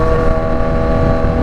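A classic motorcycle rides alongside on the road, its engine a steady close drone with a harmonic hum and rushing wind noise, loud and continuous without any talk.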